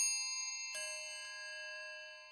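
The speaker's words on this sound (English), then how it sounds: "The bell signaling the end of class rang." A bright electronic school bell chimes in a video game, one clear ding ringing out with a second softer strike half a second later, then a sustained, slowly fading tone, with no talk.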